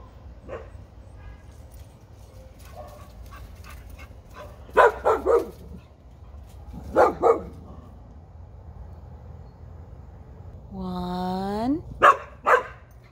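A dog barks in several short clusters of two or three, fairly close, with a whimpering whine near the end.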